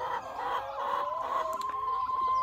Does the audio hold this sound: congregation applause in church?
no